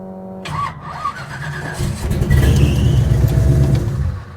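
A 1957 Chevy 210 barn find cranks briefly and then fires up, settling into a loud, steady, rumbling idle close by.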